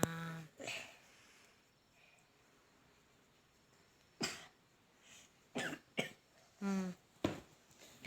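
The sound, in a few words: coughing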